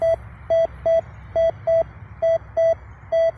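A metal detector giving a steady target signal reading 101, the kind often caused by large aluminium junk, sounds as eight short, clear electronic beeps at a quick, slightly uneven pace over a faint hum, with no talking.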